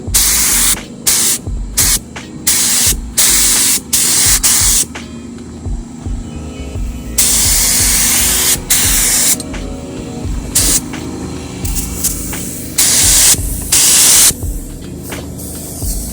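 Spray gun laying a light first coat of paint on a Nissan S15 at low air pressure, bursts of loud hissing spray stopping and starting, with a steady mechanical hum underneath and no talking.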